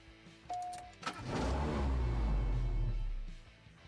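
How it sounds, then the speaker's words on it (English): Toyota Supra in the CSR2 mobile drag-racing game: a short electronic tone, then the engine fires and roars at high revs in a loud, steady drone that fades toward the end. "let's race the Supra"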